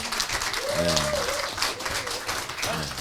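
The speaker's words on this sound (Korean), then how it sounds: "우리 정책복지 도의원님께 김정일 도의원님께 큰 박수 한번 다시 부탁드리겠습니다" An audience at a provincial council meeting on kindergarten founding and early-childhood education breaks into brief, dense applause, a short burst of many hands clapping with a murmur of voices.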